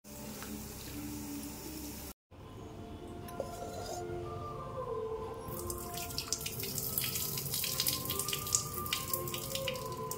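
Cooking water from boiled chickpeas is poured off into a sink, a steady close splashing flow with a few light clinks of a vessel, briefly cut off once and then resuming louder.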